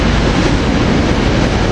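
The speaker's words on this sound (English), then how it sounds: "we got Norristown train coming in with rail cars 371 and 370" A Norristown commuter train made up of rail cars 371 and 370 rolls into Cornwells Heights station at rush hour, a loud, continuous rumble of wheels and cars passing close by.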